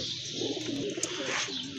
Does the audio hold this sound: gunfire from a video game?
no